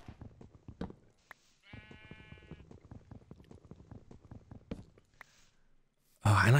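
A Minecraft sheep bleats once, a wavering nasal cry standing out among ongoing talk, followed by a sudden loud burst of noise at the end.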